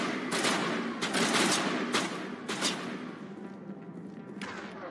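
Rapid bursts of gunfire from the video game Mass Effect Legendary Edition, several sharp volleys clustered in the first three seconds, then tailing off into fainter scattered shots and rumble, with no talking.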